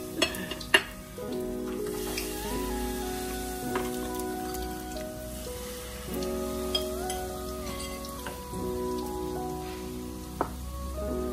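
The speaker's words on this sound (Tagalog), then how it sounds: "Haluin lang natin hanggang sa ma-dissolve ang ating mga nilagay na ingredients" A spoon stirs ingredients in a pot until they dissolve while cooking egg chicharon, giving a steady soft scraping and bubbling sizzle with occasional sharp clinks, under a constant background tone of music.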